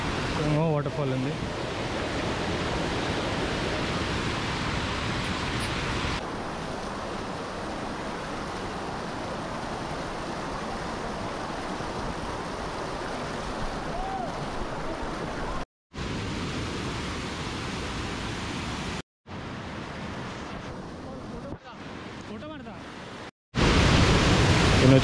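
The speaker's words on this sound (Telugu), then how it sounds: "వాటర్ఫాల్ ఉంది." A waterfall at Pali on a dangerous trekking route, a steady broadband roar of rushing water that continues throughout, cut by a few brief gaps, with a voice faintly audible in places.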